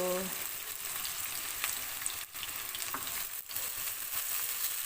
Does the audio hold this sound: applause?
no